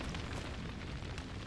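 A deep, rumbling blast rolls through the first-person horror shooter Hunt: Showdown, a sustained booming roar that fills the whole moment with no one speaking over it.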